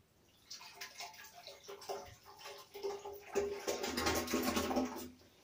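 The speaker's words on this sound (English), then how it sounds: "I'll pour some water in it." Water poured into a sensory bubble tube during cleaning, a bubbling, splashing trickle that builds to a fuller gush near the end, close and fairly quiet with no talk.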